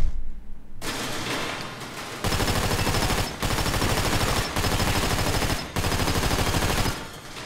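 Gunfire at a shooting range in the video game GTA 5: loud, rapid automatic bursts fired in several long strings, with short pauses between them.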